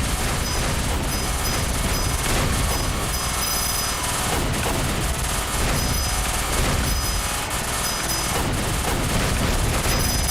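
Rapid, relentless gunfire from a shoot-'em-up ship in Caladrius Blaze on Nintendo Switch, a dense continuous barrage of shots and bursts layered with game effects, loud and unbroken for the whole stretch with no talk.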